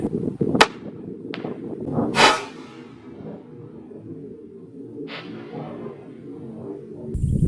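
A Ravin R20 crossbow is shot at a target 70 yards away, with a sharp snap of release, a louder burst about 1.5 seconds later, then quieter outdoor background and a faint later knock.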